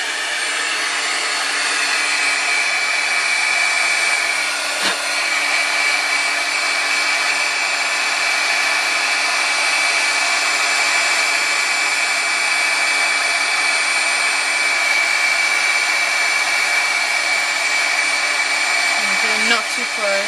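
A heat tool melts embossing powder, blowing with a steady, close, loud whirring hiss like a hair dryer that continues unbroken throughout.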